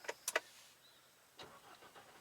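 A few quick clicks and chimes, then after a pause a pickup truck's push-button-started engine cranks and catches, settling into a quiet low idle.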